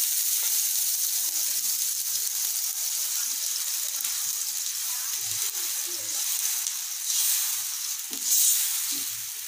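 Wheat flour dosa roasting on a pan, cooked on both sides: a soft, continuous sizzle close by, swelling briefly near the end with a stir or scrape.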